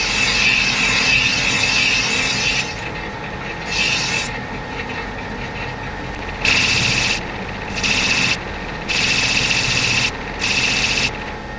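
A hand file or deburring tool rasps around the edge of a big-bore cylinder sleeve, putting in a roughly 30-degree chamfer in several short scraping strokes separated by brief pauses, with a faint metallic ring at each stroke.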